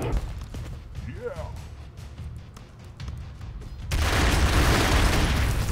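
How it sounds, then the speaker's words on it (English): Explosions in the video game Broforce, with a person talking excitedly over scattered booms before a loud, dense wall of blasts takes over for the last couple of seconds. "Explosions everywhere!"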